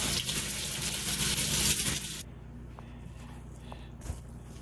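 Cold tap water gushes over canned blueberries in a strainer for about two seconds, a bright hissing rush that cuts off abruptly, followed by faint kitchen handling sounds.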